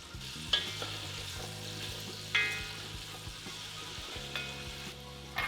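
Beef stew meat frying in hot grease in a pot, a steady close sizzle with a few sharper pops and stirring clatters as pieces are moved around.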